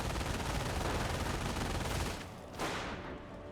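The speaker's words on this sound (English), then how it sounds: "Blank got now the MG42 setting up here." MG42 machine gun fire in Company of Heroes, a dense continuous rattling burst that cuts off partway through, followed by a brief, quieter tail.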